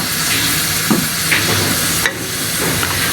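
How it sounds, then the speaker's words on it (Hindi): A spoon stirs crushed fennel seeds and cardamom in a quarter cup of hot oil, giving a steady close sizzle and hiss with a few soft scrapes and clinks against the pan. "1 मिनट सिर्फ चम्मच चलाऊंगी"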